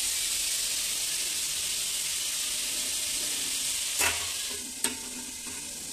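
Onion greens and potatoes fry in hot oil with a steady, close sizzle. A couple of sharp clinks from stirring come near the end.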